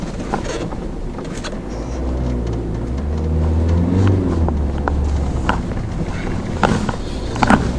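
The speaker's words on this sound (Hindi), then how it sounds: "भाई गाड़ी का पिकअप बोला हुआ है, और पूरी गाड़ी क्लच के जोर पे चल रही है, स्पीड बन नहीं पा रही है।" A Ford Freestyle fitted with snow chains crawls up the Chang La pass in Ladakh through heavy snow, its engine straining on the clutch in a steady low rumble with scattered rattles and clinks, close throughout.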